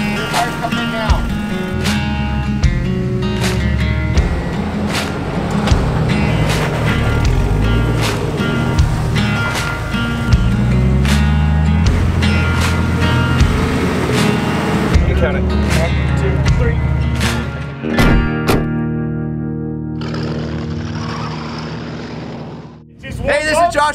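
Off-road vehicle in four-low crawling over slickrock ledges on Moab trails, engine rumbling close with thumps and scrapes of tires over rock, and voices talking over it before the engine drops away near the end.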